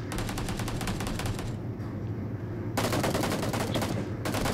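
Rapid automatic gunfire rattles in bursts during a PUBG Mobile team deathmatch, loud and close, with a short lull before the shooting resumes.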